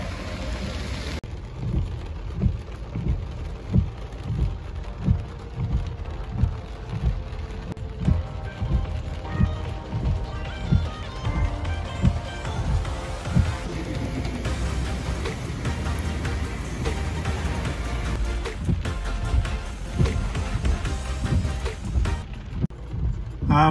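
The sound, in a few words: rain falling outdoors in Montreal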